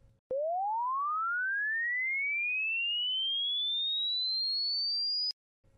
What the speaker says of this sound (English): Let's sweep the sine wave from 500 Hz to 5000 Hz.